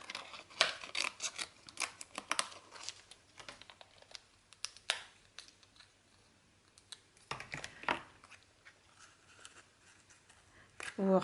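Scissors snip out a patchwork fir tree shape in paper, giving a quiet series of crisp cutting clicks and rustles in bursts with pauses between, while a person speaks softly in places.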